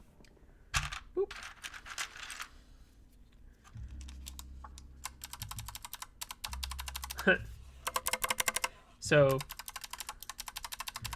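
Keycaps on a mechanical keyboard being typed on, with scattered clacks, a short burst of rapid keystrokes and a few louder clicks, heard up close while someone talks briefly at the start.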